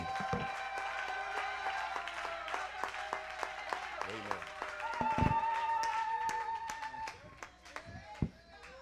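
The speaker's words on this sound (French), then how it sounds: "Give him a big hand." Applause from a church congregation after a bilingual French-English sermon welcome, scattered hand claps building into a steady patter of clapping mixed with voices and some talk throughout.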